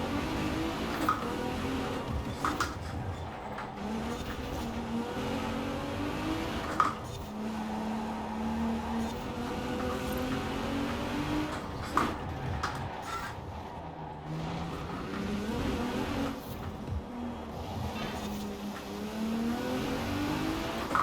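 Race car engines in a Forza Horizon 4 championship race, steady revving and gear-shift pitch swells of the player's car and a nearby Audi, continuous and moderately loud with occasional thumps, no talking.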